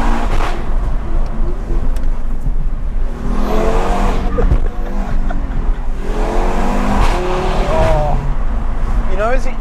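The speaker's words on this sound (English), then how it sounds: "As it changes into the next gear and it gets to about 4 to 5, that growl." An Audi RS3 engine growls loudly as it pulls through gear changes, rising in pitch with each run, and people talk over the noise.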